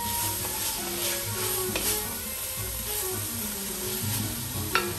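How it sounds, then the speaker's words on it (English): A wooden spoon stirs sizzling dirty rice seasoned with black pepper in a pan, a steady close hiss of frying broken by soft scraping strokes and one brief clack near the end, with no voices. "And wooden spoon. Give that a little stir."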